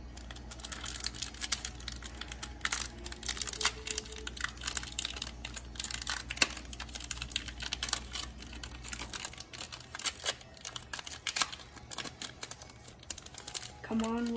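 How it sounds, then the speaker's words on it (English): Pokémon card packs from Sword and Shield Rebel Clash being opened, with close, irregular crinkles and crackles of foil wrappers alongside a person talking. "I am gonna open 3 packs"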